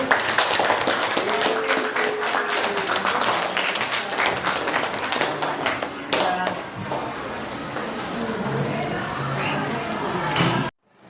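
A classroom of students applauds a group that has just presented, with dense, steady clapping for about ten seconds before it stops abruptly. A few voices murmur underneath.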